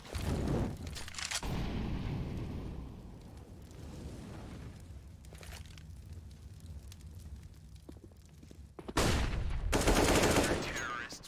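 AK rifle fire in Counter-Strike on the Inferno map during a pro esports match, with loud bursts of shots at the start and again near the end, and quieter game noise and muffled commentary in between.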